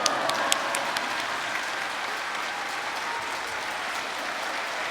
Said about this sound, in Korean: 뜨거운 박수와 함께 할렐루야로 맞이하시기 바랍니다